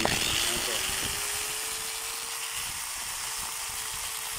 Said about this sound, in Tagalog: Bali Stanley po siya na grinder mga kabay